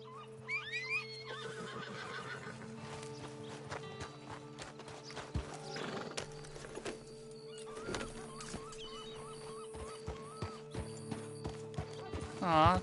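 A horse in the Red Dead Online video game whinnies and clops its hooves, with a few short neighs and scattered hoof steps at a moderate level while a person talks over it.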